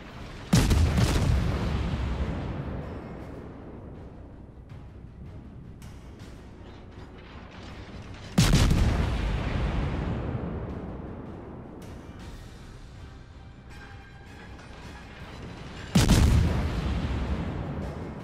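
Three heavy naval gun salvos from the cruiser Edinburgh in World of Warships, spaced about eight seconds apart, each a loud booming blast that rolls off into a long decaying rumble, with mechanical ship noise between shots.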